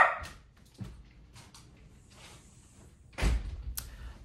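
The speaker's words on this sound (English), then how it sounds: "dog's gonna start barking." A dog gives a few short barks and whimpers amid household clatter, with a door-like thump near the end.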